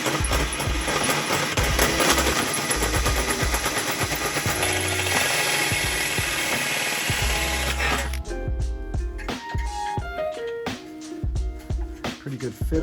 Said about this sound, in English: We're trying to drill this with an upward angle in this hole.